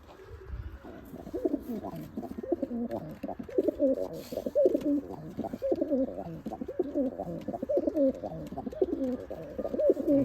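Giribaz pigeons coo steadily in soft, repeated throaty rolls that overlap throughout, close and moderately loud, with only faint background noise.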